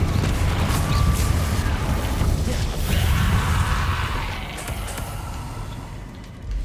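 Confringo fire spell from Hogwarts Legacy bursting in a heavy, rumbling blast, a dense low-end roar that stays loud for several seconds before easing slightly near the end, with no voices over it.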